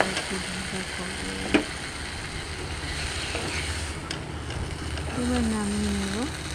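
Red amaranth leaves with brinjal frying in a pan, a soft steady sizzle with an occasional stirring knock, close by, while a voice speaks over it at the start and end.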